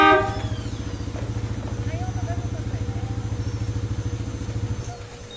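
A Bosch Europa horn blares on a Honda ADV 150 motorcycle, a loud sustained honk lasting about five seconds before cutting off, with a brief voice at the very start.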